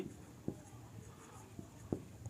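Pen scratching on paper while an LM equation is written out by hand, faint soft strokes with a few sharper taps, quiet and close against steady low room noise.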